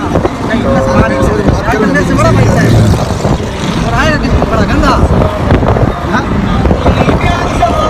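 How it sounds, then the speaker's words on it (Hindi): A car moving at speed along a road, with a steady loud roar of engine, tyres and wind buffeting the microphone throughout, while people talk over it. "ये देखें गाड़ी हमारी स्पीड में है"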